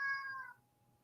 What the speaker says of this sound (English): I think I'm going to go evict the cat real quick